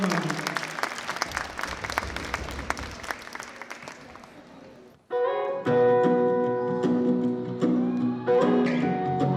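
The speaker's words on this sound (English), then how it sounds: "Let's give another round of applause for all the seniors" A crowd at James Logan High School's senior recognition applauds the seniors with loud, busy clapping for about five seconds. The applause then cuts out and upbeat music with a strong steady melody takes over.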